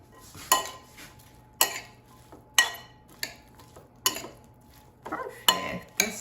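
A spoon clinks and scrapes against a bowl while Shirazi cucumber salad is tossed, sharp clatters repeating about once a second, close and distinct against a quiet background.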